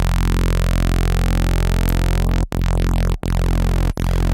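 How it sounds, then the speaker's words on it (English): A squelchy reese bass synth patch built in Harmor with its high frequencies removed. It plays as a loud, dense, continuous drone while its tone sweeps and shifts, broken by three brief dropouts, with no voice. "You get a squelchy, reese bass sound"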